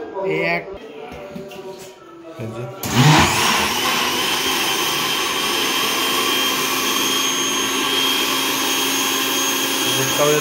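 A mixer grinder churning Red Cow sour curd roars into a loud, steady, high-pitched whir after a few seconds of talking, running on unbroken and close.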